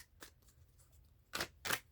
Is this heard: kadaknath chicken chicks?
no